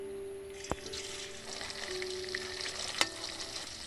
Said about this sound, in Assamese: তেলখিনি গৰম হোৱাৰ পাছত পনীৰখিনি ভাজি ল'ম